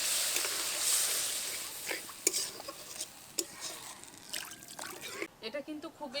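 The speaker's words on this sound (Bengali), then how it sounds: "এবার এর মধ্যে পরিমাণ মতো জল দেব।" Water poured into spice paste frying in a pan makes a hissing sizzle that fades. Utensil clinks and stirring follow, and a voice talks over it.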